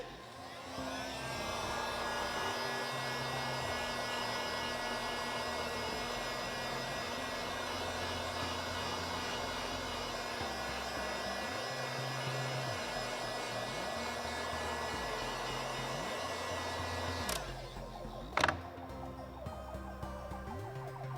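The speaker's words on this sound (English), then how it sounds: "And then the same thing, take my heat gun." Heat gun running continuously over a screen-printed t-shirt, a steady droning whine with a sharp click and brief bump near the end as it is switched or moved.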